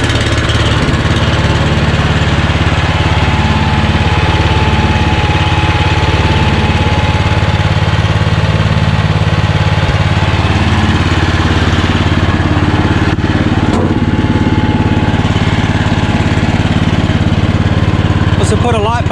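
A Cox Stockman ride-on mower with a Honda GXV390 engine runs loud and steady throughout, a constant mechanical drone with slight changes in pitch as it revs.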